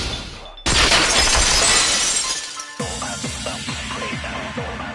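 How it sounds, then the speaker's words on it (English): A vase shatters in a video game with a loud sudden crash of breaking pieces, followed by a second burst of scattering fragments and rhythmic clatter. "If it wasn't the window, then what broke to make that sound? A vase."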